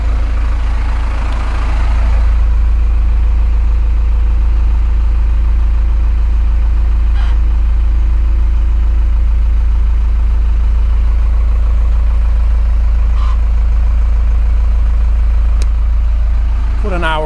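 A Cummins 4BT diesel engine swapped into a Ford F-150 idles with a loud, steady low rumble; a brief starting surge gives way to a constant, close, throbbing drone lasting throughout.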